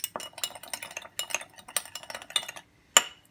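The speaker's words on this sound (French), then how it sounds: "on vient bien mélanger jusqu'à ce que le sucre soit plutôt bien dissous." A utensil stirs sugar into a spring-roll dipping sauce in a small bowl, rapid clinking scrapes in quick rhythmic bursts, close and clear, ending with a brief pause and one sharp clink.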